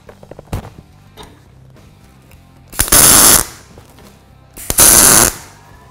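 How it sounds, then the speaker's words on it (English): Two bursts of close, loud MIG tack welding on steel axle stand parts, each a harsh crackling buzz lasting about half a second, separated by quiet shop noise and a few clanks. "So I've squared up all the parts and now I can tack them in."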